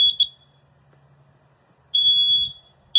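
Household smoke alarms blaring indoors, two loud sustained high-pitched electronic beeps separated by a quiet gap, with a third starting at the end.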